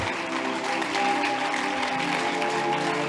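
A church congregation applauding together at a prophetic worship service, steady dense clapping throughout with a sustained tone running underneath.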